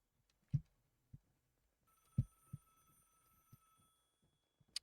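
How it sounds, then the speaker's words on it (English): A telephone rings inside a video game house, a faint, thin electronic tone that holds steady for a few seconds amid scattered soft thumps and knocks. "Ring, ring, ring, ring, ring, ring, phone call."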